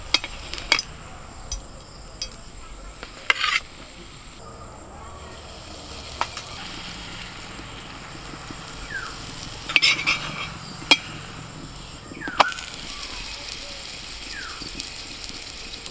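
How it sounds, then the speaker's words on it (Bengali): Aloo parathas frying and puffing in oil, a continuous soft sizzle with occasional clinks of a utensil against the pan and brief sharper spatters, a voice speaking over the cooking now and then. "পরোটাগুলো কি সুন্দর ফুলছে দেখো না।"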